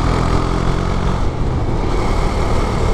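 A Husqvarna Svartpilen 401 motorcycle engine roars steadily and close while accelerating, with a buzzy, rough drone under wind noise throughout.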